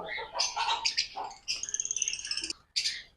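A pair of cockatiels calls in bursts of bright, scratchy chirps and squawks, close and fairly loud, with short pauses between the outbursts.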